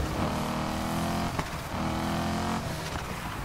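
Engine of a V8-swapped Nissan GT-R in Need for Speed Heat, held at a steady, loud drone with layered harmonics, dipping briefly twice as the throttle changes before climbing back.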